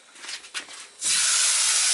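Aubergine moisture hissing in a hot dry pan, a couple of short sizzles and then a sudden loud, steady steam hiss, close by.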